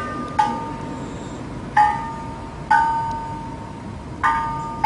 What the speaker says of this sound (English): The mysterious sound is produced by water dripping into a jar buried under the surface.